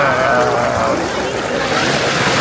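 Sea waves wash in at Sokcho beach in Korea, a loud, steady broadband roar of surf with wind buffeting the microphone, filling the whole short stretch without a break.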